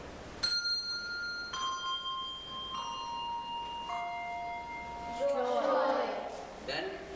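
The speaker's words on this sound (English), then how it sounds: "ring 4 bells for joy." A handful of bells ring out one after another, each struck tone hanging and slowly fading, building to a denser cluster of chimes near the end.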